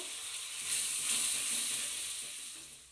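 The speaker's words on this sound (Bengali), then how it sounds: "আর যে পেস্টটা করে এনেছি সেই পেস্টটা আমি এর মধ্যে দিয়ে দিলাম একটু নাড়িয়ে নেব" Freshly ground spice paste, added to a pan after cumin and coriander powder for a cabbage dish, sizzles in hot oil with a steady, close hiss that swells and eases gently as it is stirred; no voices.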